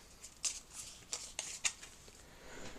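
Playing cards in a tabletop card game are flipped and drawn, making a few soft, crisp snaps and slides, quiet and close, spaced irregularly.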